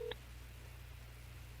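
A telephone keypad gives a single short dialing tone near the start, then only a low steady hum continues.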